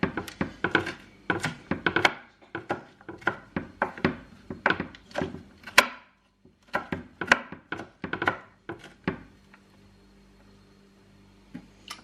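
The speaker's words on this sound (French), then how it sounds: "Donc on va hacher ça plus finement." Rapid knife chopping on a board as vegetables are cut finely, a dense run of close wooden thunks that stops in the last few seconds, leaving quiet background.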